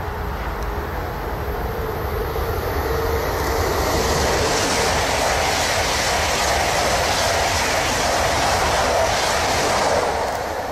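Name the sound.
European high speed train passing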